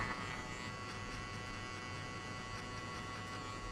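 An electric hair trimmer buzzing steadily close by while removing a guideline in a mid skin fade haircut, a continuous low mechanical hum that holds level throughout.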